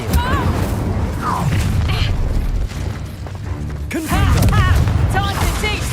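An Incendio fire spell is cast in Hogwarts Legacy, a whooshing, crackling burst amid thumps, creaks and other combat effects, with game voices calling out over the clatter.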